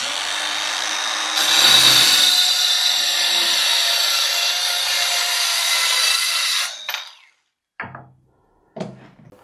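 A steady, raspy hand saw cutting through wooden boards runs for several seconds, then stops, followed by a few short knocks and scrapes of wood.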